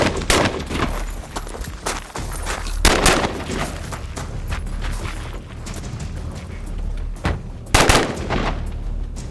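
A rapid string of gunshots fired during a timed practical shooting stage run, loud and close, with sharp bursts clustered near the start, middle and end over a steady outdoor background.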